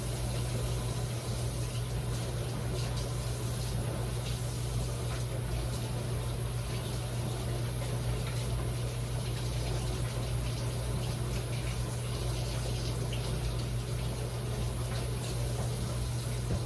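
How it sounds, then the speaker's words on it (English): Steady running water pours continuously from a tap while hands are washed, a loud, even hiss close by with no talking. "So I'm gonna wash my hands."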